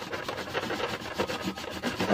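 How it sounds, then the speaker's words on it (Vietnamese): A hacksaw blade saws through a styrofoam box being cut into a beehive, giving a steady rough rasping scrape in repeated strokes, close and moderately loud with no talking. "mình có cái lưỡi cưa sắt này thì mình cưa thôi bằng cái lưỡi cưa này thôi"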